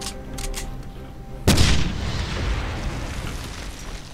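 A single sharp, loud grenade blast in the video game Wolfenstein strikes suddenly, followed by a long rumbling decay with a scattered crackle; faint game sounds come before it.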